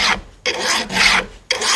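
A hand file rasps across the top plate of a chainsaw chain in three or four close, rhythmic strokes, each a gritty scraping burst with brief pauses between.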